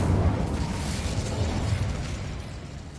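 Incendio fire spell cast in the Hogwarts Legacy video game, a loud whooshing burst of flame that roars at once and slowly fades over a few seconds, with no talk.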